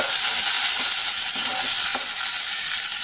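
Onions fry in a pan with a steady, bright hiss and sizzle, close and loud, and a few faint stirring clicks come through underneath.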